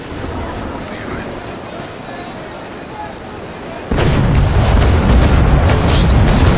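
Cannonballs striking a wooden sailing warship in Naval Action, a sudden loud booming impact that bursts in partway through and leaves heavy, rumbling crashing noise after a quieter stretch.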